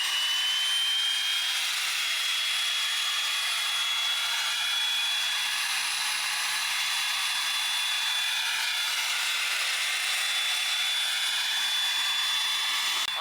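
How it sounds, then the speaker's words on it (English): A 2022 Cummins diesel truck with its emissions system deleted and a hiss tune roars from the exhaust with a loud, continuous hiss, steady and harsh throughout, with a thin whine riding on top. "with that hiss tune, it gets like obnoxious. Like it's way too loud."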